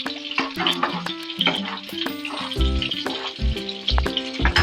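Bangda mackerel pieces frying in hot oil in a pan of cooked masala gravy, a dense crackling sizzle with repeated clattering stirs, close and fairly loud, without any talking.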